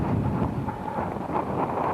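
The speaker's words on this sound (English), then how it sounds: "Gusts of wind echoing off the microphones." Wind gusts buffeting the microphones in a quiet athletics stadium at the 1988 Olympics, a steady broadband rumble that rises and falls throughout with no voices.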